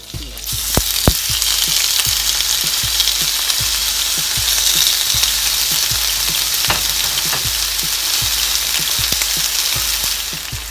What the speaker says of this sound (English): we're gonna start frying up the steak